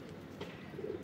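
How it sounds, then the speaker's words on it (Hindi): A Rakhdi pigeon gives a soft, low coo, a brief murmuring call heard close but faint against a quiet background. "ये राखड़ी कबूतर है।"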